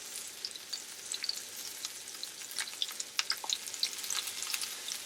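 Mushrooms sear in a hot pan over high heat, giving a steady close sizzle with scattered sharp crackles and pops and no voices.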